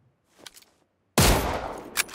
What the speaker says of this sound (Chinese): 四周的枪声也越来越近，越来越响